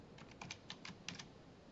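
Keys tapped on a computer keyboard while entering numbers into an Excel spreadsheet, a quiet burst of about eight light clicks in an irregular rhythm, close by and alone with no talk.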